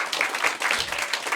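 Audience clapping at a stand-up comedy show, a brief burst of lively applause heard alone at moderate loudness.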